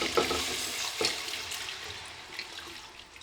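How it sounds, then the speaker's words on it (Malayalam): Cooked beef tipped into a masala mixture for a Malabar dish, giving a soft sizzle with scraping stirring strokes and a couple of sharper clinks early on, fading slightly as it settles. "ഈ വേവിച്ച് വെച്ച ബീഫ് നമുക്ക് ഈ മസാല കൂട്ടിക്ക് ഇട്ട് കൊടുക്കാം"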